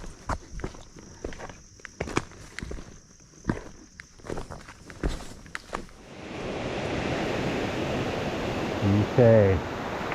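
Water of Dunfield Creek near the Delaware Water Gap rushes in a steady, close, noisy wash that rises after several seconds of crunching footsteps on a rocky trail, with a brief voice near the end.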